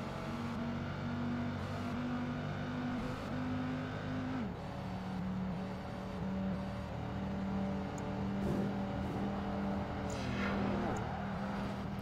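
Race car engines in Project Gotham Racing 2 with a Dodge, Porsche and Ferrari on track, a steady droning whine that drops in pitch partway through and then holds, with a faint car passing near the end.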